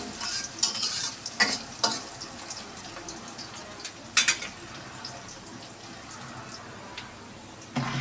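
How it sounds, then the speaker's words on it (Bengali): Chopped onion with bay leaves fries in a pan for kosha mangsho meat curry, a steady sizzle broken by several sharp scraping stirs near the start and middle, close and fairly loud. "তেজপাতা আর পেঁয়াজ কুচি দিয়ে পেঁয়াজটাকে ভালোভাবে লাল করে নেব।"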